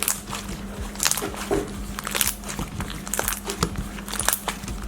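Crunchy baking soda slime being squeezed by hand, dense bursts of crackling and popping in quick irregular clusters, close and clear with no talking.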